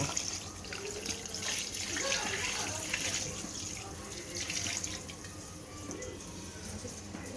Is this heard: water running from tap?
yes